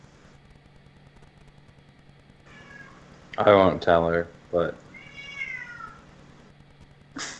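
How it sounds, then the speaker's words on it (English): A pet cat meows a few loud, close times in a quiet home setting, drawn-out cries following one another with brief gaps, while a person talks nearby. "What's this cat I'm hearing?"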